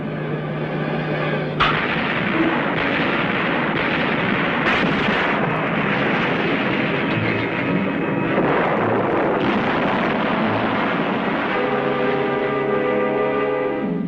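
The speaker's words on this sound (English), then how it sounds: "Naval gunfire is damaging to the positions" Heavy naval gunfire booms and rumbles continuously, dense overlapping blasts forming a loud, sustained roar of bombardment with a sharp crack early on.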